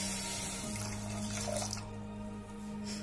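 Water poured into sugar for a sugar syrup, a short steady splashing pour with a faint hum underneath, close and quiet.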